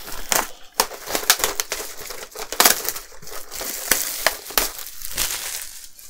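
Plastic packaging for a model-kit pack crinkles and crackles up close in a quick series of sharp crumpling bursts, with no talking.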